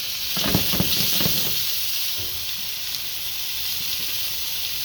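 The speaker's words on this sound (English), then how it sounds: "Like a ½ tablespoon of oil. That's all you need in a smoking hot pan." Potatoes in half a tablespoon of oil in a smoking hot pan give a steady, close hiss, with a few brief crackles and bumps near the start before the sizzle settles into an even wash.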